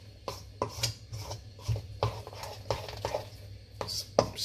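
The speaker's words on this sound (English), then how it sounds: "So kind of try to mix this batter evenly." Banana fritter batter being mixed in a bowl, with repeated scraping and knocking strokes of a utensil against the bowl at an irregular rhythm, close and fairly loud, no talk.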